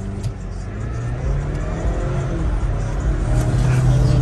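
An all-wheel-drive Ford Explorer launches hard, its engine revving and climbing in pitch as it accelerates away, loud and close with no talk over it.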